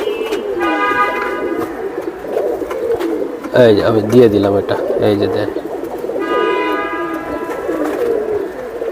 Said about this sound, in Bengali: এটা পুরানো জাতের কবুতর ভাই, পুরানো জাতের।